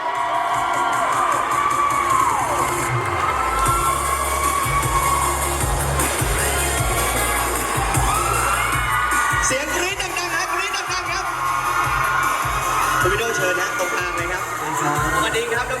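A launch event crowd cheers and screams loudly for a brand presenter, with dense shrieks and whoops rising in waves and an amplified voice talking over the cheering.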